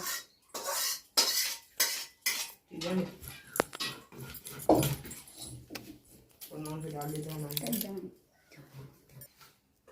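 A knife cuts meat in a home kitchen, making sharp clicks and scrapes against metal and dishes in the first few seconds, followed by a stretch of speech that covers the cutting.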